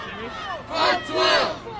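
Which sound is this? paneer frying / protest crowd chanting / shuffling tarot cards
protest crowd chanting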